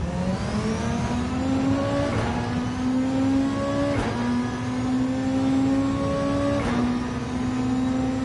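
Mustang race car engine in Gran Turismo 7, a loud continuous roar climbing steadily through the revs with brief dips at gear shifts, heard alone and close without any talk.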